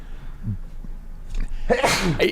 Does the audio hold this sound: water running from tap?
no